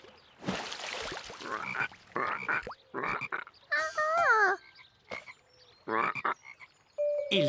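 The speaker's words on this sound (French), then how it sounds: "effrayés par les coassements des grenouilles." Frogs croak in a cartoon pond scene, a series of separate, close, fairly loud croaks and grunts in short bursts with brief pauses between them, and no talking.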